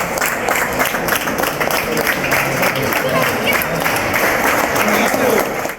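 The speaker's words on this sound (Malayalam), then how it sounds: "ജേഴ്സി അണിഞ്ഞ് വരിവരിയോടെ നിന്ന് അവർ കയ്യടിയോടെ പ്രിയതാരത്തെ സ്വാഗതം ചെയ്തു" Children in jerseys standing in rows clap steadily to welcome hockey star PR Sreejesh, a dense, loud, sustained applause close by, with crowd chatter mixed in.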